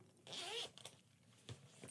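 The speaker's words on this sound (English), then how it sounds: "at the outside zipper" An outside zipper on a Waterfield bag is pulled open in one quick rasping stroke, close and fairly loud, followed by a couple of faint softer zip ticks.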